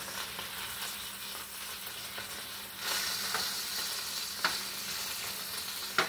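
Bacon frying in a pan with a dense, continuous crackling sizzle that grows louder midway, with occasional sharp pops and spatters, close by and without talk.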